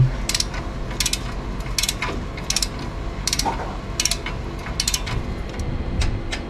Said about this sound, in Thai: ขันน็อตตัวนี้ให้แน่นเลยนะครับผม